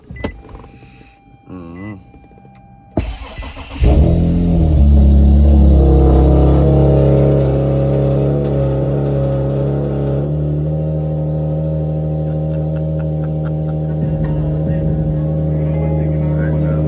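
A Mazda 6 engine cranks and catches loudly, then settles into a steady close warm-up idle with a faint voice in the background.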